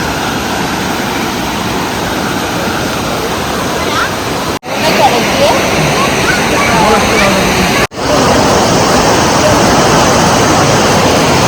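Strong rushing water flows steadily and loudly, a broad roar close to the listener that drops out briefly twice, with people talking over it.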